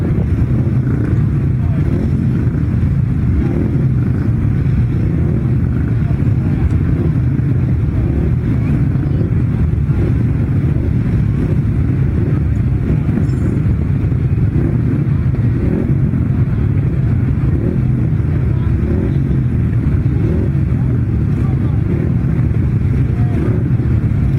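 At a 2017 grasstrack meeting, five 500cc sidecar outfits drone steadily and loudly from engines running together at a distance, with announcer talk over the mix.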